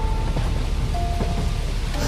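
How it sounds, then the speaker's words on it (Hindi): Steady heavy rain pours in a thunderstorm, a dense even hiss with a low rumble beneath it and faint tonal sounds over the top, and no voices. "बाहर बारिश और तूफान अब भी जारी था"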